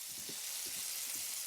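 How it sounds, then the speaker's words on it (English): Oil sizzling in a pan as a video game sound effect: a soft, steady hiss of frying with a few faint crackles and pops, heard alone at low volume. "the soft sizzle of oil on a pan"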